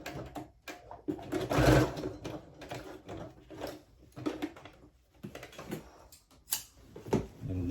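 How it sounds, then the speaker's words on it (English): A sewing machine stitches a trouser hem in short, irregular bursts, quick mechanical rattles with brief pauses between, close and fairly quiet. "And you run it through your sewing machine."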